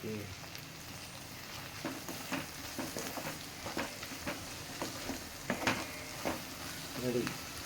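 Brinjal fry sizzling in a pan, a steady crackle broken by repeated scraping stirs near the end, close and fairly loud with no talk.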